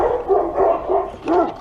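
Dogs bark close by in a quick run of about four short, sharp woofs with brief gaps between them, and no one speaks.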